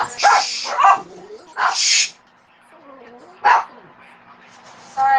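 Toy poodles barking indoors, several sharp close barks in short bursts with yips and a few whimpering pauses between them, loud against an otherwise quiet room.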